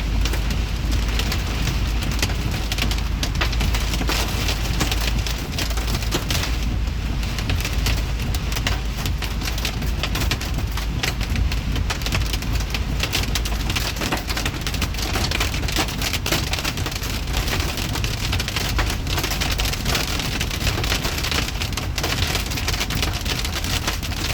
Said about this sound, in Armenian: Կարկուտ է դառնում